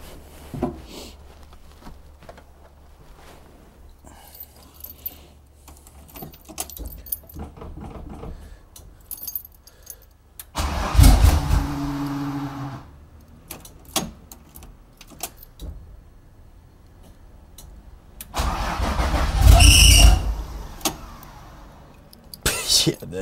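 A BMW E36 engine with a loose pipe cranks with a sputtering rumble, goes quiet, then cranks again loudly, amid faint clicks and rustling.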